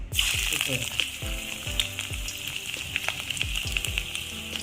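Chopped ginger sautéing in coconut oil for a kuruma curry: a bright, steady sizzle runs throughout, broken by regular scraping strokes of a spoon against the pan, close and fairly loud.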